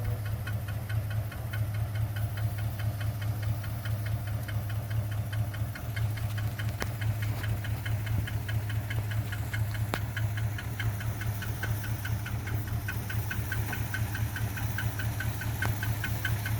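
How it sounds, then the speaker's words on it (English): A 1964 Mercury Comet Caliente, left abandoned for 27 years, idles with a low steady throb and a fast metallic ticking running through it, close and continuous, with no voices. "I don't like that ticking noise."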